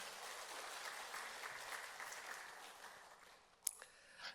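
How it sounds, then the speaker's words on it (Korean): A church congregation applauds during a Wednesday worship service, a broad wash of many hands clapping that fades over a few seconds, with a couple of sharper claps near the end. "하나님께 영광의 박수 올려드리겠습니다"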